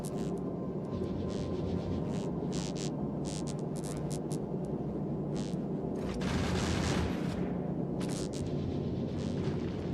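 Gun turrets in Factorio fire in continuous rapid bursts, a steady crackling barrage broken by sharper louder volleys, lasting throughout with no talk.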